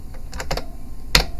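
Several quick computer keyboard keystrokes for a Shift D duplicate shortcut while modeling a bus in Blender, a short cluster of clicks followed by one sharper, louder tap near the end; no voices.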